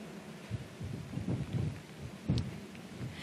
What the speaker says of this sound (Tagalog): Actually, Vicky, talagang mas lalo pang lumalakas yung buhos ng ulan.